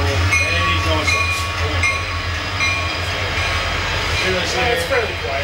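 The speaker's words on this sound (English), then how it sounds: "And now we got the train we got to deal with." A train rolls slowly past at close range, with a steady rumble, clanking wheels and occasional squeals. A person talks over it.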